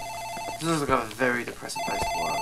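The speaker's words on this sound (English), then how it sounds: "I think that's the phone in the office ringing." A telephone rings in an office, a steady repeating electronic ring running before and after a stretch of nearby talk that briefly covers it.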